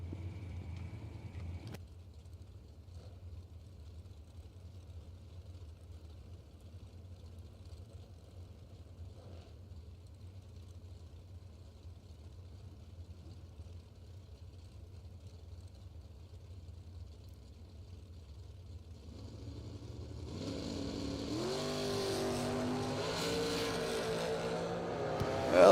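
An S&W dragster launching at a drag strip, with a long low idle rumble that breaks after about twenty seconds into a sudden loud surge of engine noise, with rising revs as it takes off.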